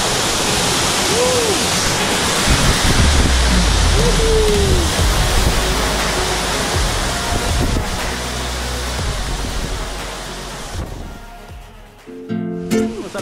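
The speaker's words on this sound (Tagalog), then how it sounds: "Ano naman ang falls, napakalakas." A powerful waterfall roars as a loud, steady wash of rushing water that fills the whole scene, close and unbroken for several seconds, with faint voices and a few bumps near the end.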